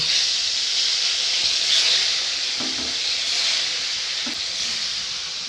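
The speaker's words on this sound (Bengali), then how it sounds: "তেল গরম হয়ে গেছে এবারে মাছগুলো ভেজে নেব" A steady, loud hiss of fish frying in hot oil runs throughout, with a couple of faint knocks.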